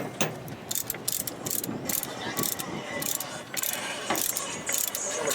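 A tool cuts a link off a motorcycle drive chain in a dense burst of close metallic clicking and ratcheting, with short grinding bursts repeated over a few seconds.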